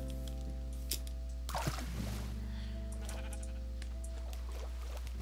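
Sheep bleat in the Minecraft video game while being sheared, with a couple of short bleats over a steady low background hum and some soft clicks.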